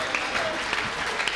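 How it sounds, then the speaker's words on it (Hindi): Audience at a Hindi comedy poetry gathering claps steadily, a dense patter of applause from a crowd in a hall, moderately loud and continuous throughout. "हाथ उठा के ताली बजाओ जोरदार एक बार आप लोग"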